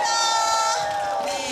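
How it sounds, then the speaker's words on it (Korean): A studio audience at a Korean music talk show cheers loudly in one sustained roar, the sound steady and close throughout. "함성에 박수!"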